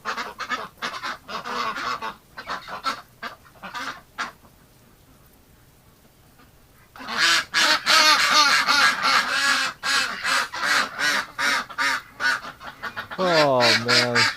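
Indoor ducks quack and honk loudly in rapid, overlapping bursts close by, with a quiet gap midway before the racket resumes even louder, and a voice speaks among them.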